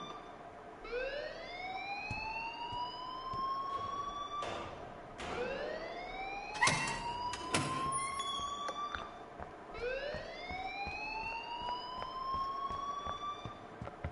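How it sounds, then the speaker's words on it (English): Alarm in the Life is Strange video game, a repeating rising siren-like wail that sweeps upward three times, loud and close, with a few sharp clanks in the middle. "please turn off that alarm since that's your job"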